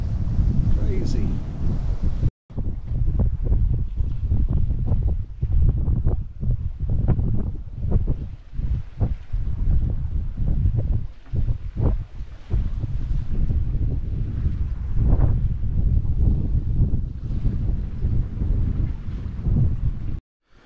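Strong wind of about 20 knots roars across a sailboat motor-sailing at sea near Mull, a loud, continuous buffeting rush on the microphone with gusty swells and one brief dropout.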